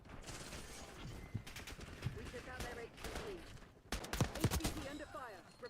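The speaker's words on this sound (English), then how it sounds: "Literally can't go one game without having to use a fucking shotgun" Shotgun gunfire in a video game: several sharp blasts and bursts with mechanical clacks in between, loud against a busy game background, with a voice talking at times.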